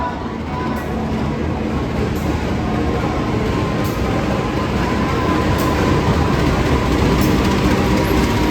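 Penataran commuter train pulling in from the Surabaya direction at a station, a loud, steady rail rumble with continuous wheel noise and faint rhythmic clicks throughout, no talk.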